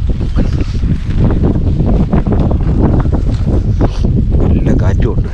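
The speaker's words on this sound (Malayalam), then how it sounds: "നല്ല കാറ്റുമുണ്ട്." Strong gusts at a trekking base camp with tents, a loud continuous roar buffeting the microphone throughout, with a voice faintly under it.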